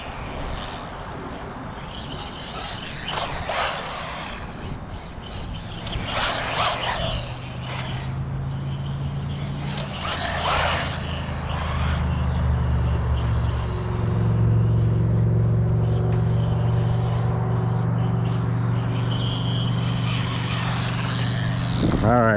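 Electric ARRMA Granite Grom RC car with stock differentials and GPM Racing 7075 upgrades doing a speed run, a steady motor whine and rumble rising and holding loud for most of the stretch, with a few louder bursts early on.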